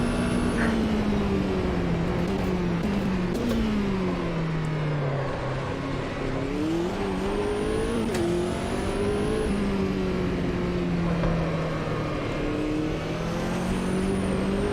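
A 5.8 litre V8 race car engine in the Automobilista 2 racing game roars continuously, its pitch rising and falling through gear changes and corners, loud and close with no talk.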